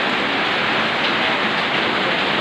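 Heavy rain pours down during flooding in Tudela, Misamis Occidental, in a loud, dense, unbroken hiss with no pauses or voices.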